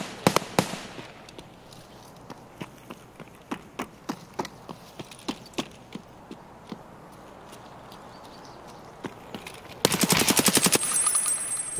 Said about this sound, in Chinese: 他在乱开火。